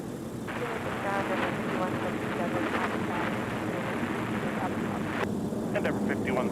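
A jet airliner moves on the ground at Minneapolis–Saint Paul airport in winter, giving a steady, loud, broad engine roar throughout, with talk and radio chatter over it.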